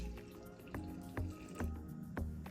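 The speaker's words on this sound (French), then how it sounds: "Je vais rajouter de l'eau." Water running in a thin stream onto 400 g of flour for a shrimp dombré dough, a steady close trickle broken by a few soft dripping plops.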